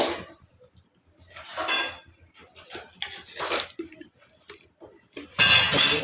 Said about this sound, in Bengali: এখন হালকা আছে নিচে একটা তাওয়া দিয়ে তারপরে পাতিলটা রেখে দেবো